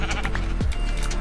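Sheep in Minecraft give a short bleat, loud and close, with faint game sounds around it.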